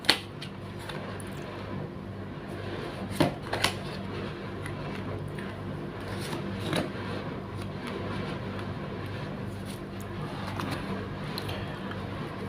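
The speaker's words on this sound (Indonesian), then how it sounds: "Saya shuffle terlebih dahulu." Tarot cards are shuffled by hand, giving soft, continuous papery riffling with scattered light taps and flicks, close and fairly quiet throughout.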